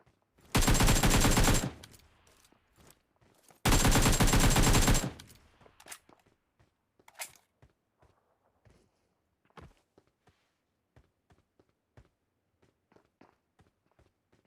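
Gunfire in the mobile battle-royale game PUBG Mobile: two long, loud automatic bursts a couple of seconds apart, followed by a quiet stretch of scattered light clicks and footstep-like taps.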